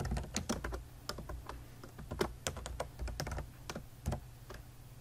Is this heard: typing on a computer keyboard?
yes